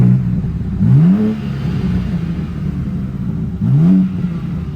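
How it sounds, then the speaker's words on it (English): A BMW G87 M2 engine revs twice, each blip a sharp rising then falling surge over a steady low idle rumble, recorded close. "I'm gonna go ahead and give y'all a few revs."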